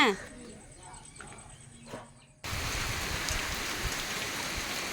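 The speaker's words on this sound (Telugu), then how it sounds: "పొద్దున్న మొక్కలకి నీళ్ళేసాను తొమ్మిదిన్నర అవుతులకు వర్షం వచ్చేస్తుంది" Morning rain: a quiet spell with faint bird calls, then rain starts abruptly and keeps up a steady, fairly close hiss to the end.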